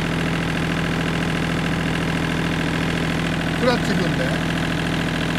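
A tractor engine idles steadily throughout, a constant low rumble with a voice speaking briefly over it.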